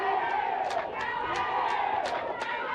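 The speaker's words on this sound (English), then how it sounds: "the spectators are up in arms here, especially from the Angolan side, as they are cheering just right in front of us here" Angolan supporters cheer at an Angola vs Zambia under-20 football third-place playoff, with continuous close crowd shouting and chanting that swells in repeated bursts of voices.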